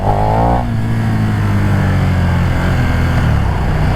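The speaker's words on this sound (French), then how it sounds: "Ça donne là en première, si j'accélère un peu." KTM Superduke 1290 Evo motorcycle pulling hard in first gear, a loud, close engine note climbing briefly in pitch, then holding a steady, throaty drone for the remaining seconds with no speech.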